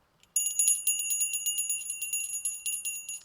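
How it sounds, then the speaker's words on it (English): A hand bell rings close and loud, struck repeatedly in a quick irregular rhythm, its bright metallic tones sustaining between strikes against near silence. "I'm going to ring this bell"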